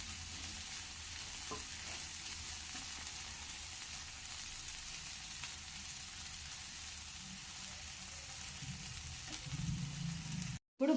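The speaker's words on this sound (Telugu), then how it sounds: "ఒక 5 మినిట్స్ ఇంకొద్దిసేపు ఫ్రై చేసుకుంటే బెండకాయ" Okra frying and being stirred in a pan, a steady hiss of sizzling oil with occasional soft scrapes, continuous and fairly quiet, then a sharp cut at the end.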